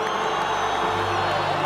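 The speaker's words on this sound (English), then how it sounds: "a round of applause for these two warriors in the ring" A boxing video game's arena crowd cheers and whoops for two fighters after the bout, a loud, dense wash of cheering and shouting that fills the whole short stretch.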